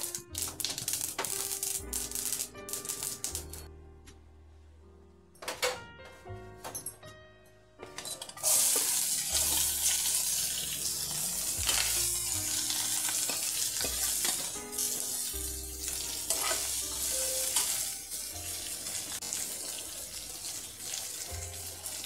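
Mustard seeds, onion and curry leaves fry in melted ghee for a sweet corn kees, with loud continuous crackling and sizzling, spoon stirring and occasional clinks close by.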